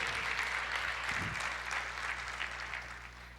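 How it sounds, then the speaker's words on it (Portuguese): Congregation in a church applauding, a faint, hissy, continuous spread of many hands clapping at once that fades slightly toward the end. "Você pode aplaudir o Senhor e dizer: eu creio nisso."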